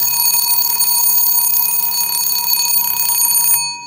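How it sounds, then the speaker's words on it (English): A Westclox Baby Ben mechanical alarm clock rings with a loud, steady metallic bell clatter, close and continuous for several seconds before cutting off abruptly. "Anyway, we'll let Baby Ben go off."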